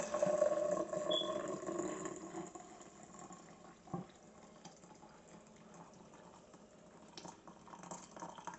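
Cowboy coffee pours from a tilted pot in a short steady stream at first, then trickles and fades, followed by a few small clinks and quiet drips.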